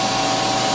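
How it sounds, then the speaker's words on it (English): A shop vac powered through a 12 volt inverter from an RV's DC supply runs at a constant, loud airy roar with a faint steady whine, unbroken through the short span and free of speech. "So let's turn on the shop vac and see just how many amps of power we get."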